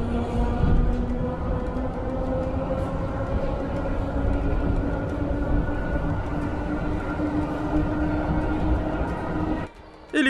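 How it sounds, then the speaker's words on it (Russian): Steady rumbling ride aboard an electric suburban commuter train in Russia, a continuous droning hum with rail noise throughout, briefly dropping away near the end. "Электричка довольно удобный транспорт."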